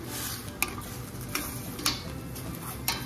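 A utensil stirs sayote with chicken and shrimp in a pan under a low sizzle. Four or five crisp scraping clicks come at uneven intervals, close and moderately loud.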